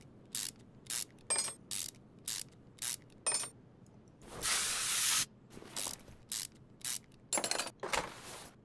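Ratchet clicks loosen small bolts on an engine in the Car Mechanic Simulator 2021 video game, coming as a series of short, evenly spaced bursts broken by a longer hissing sweep midway.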